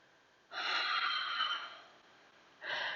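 Breathing during a slow yoga warrior 1 stretch: a long audible breath lasting over a second, then a short pause and the start of a second breath, close and soft with no talking.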